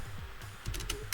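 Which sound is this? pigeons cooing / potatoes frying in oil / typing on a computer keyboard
typing on a computer keyboard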